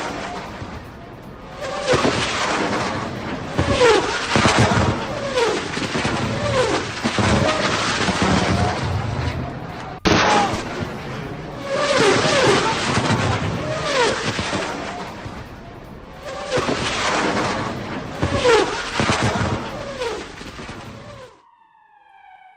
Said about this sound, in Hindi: आपको वीडियो दिखा रहे हैं कि देखिए कैसे रॉकेट से हमला किया गया है